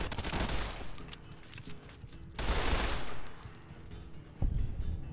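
Gunfire in the Fallout: New Vegas video game comes in rapid bursts, with clusters of sharp shots at the start and again midway, plus a single crack near the end, at moderate loudness.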